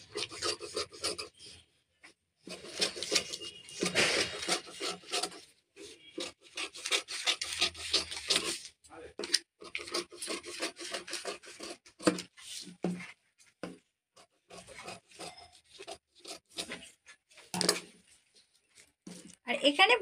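Scissors cutting through trouser fabric on a tailoring table, repeated rasping snips in uneven bursts, close, with someone speaking over parts of the cutting.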